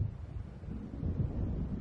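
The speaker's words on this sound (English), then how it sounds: "It seems there's a storm coming." Low, rumbling thunder of an approaching storm in Alan Wake, a dull continuous roll with gusty wind, near and moderately loud with no voices.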